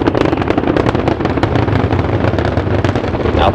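Space Shuttle Endeavour's three main engines roar at full throttle during the STS-59 launch climb, a loud, dense, crackling rumble that churns continuously with rapid ragged pops and no break.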